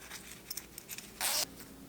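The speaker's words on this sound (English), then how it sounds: "Just get the zipper started, or get the slider started" A zipper slider pulled along its teeth during a zipper repair: faint ticking, then one short, bright rasping pull.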